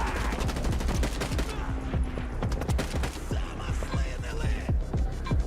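Rapid gunfire from the video game Stalker, dense volleys of sharp automatic shots in quick bursts, loud and close, continuing throughout with only brief pauses and no voice over it.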